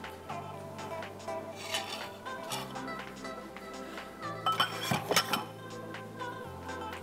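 Spatula scraping and spreading no-bake banana split cake mixture with butter flat in a dish, soft scrapes and light clinks against the dish, steady and close over a low hum.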